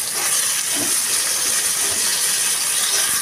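Washed jujube plums hit hot five-spice tempering oil for a sweet-sour-spicy pickle, setting off a loud, steady, close hiss of sizzling with faint scraping and no voices.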